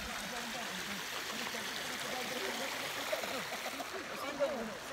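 Water pours steadily over the spillway at Hindang Falls in Iligan City, a continuous broad rushing wash with no pauses, fairly close and unbroken by talk.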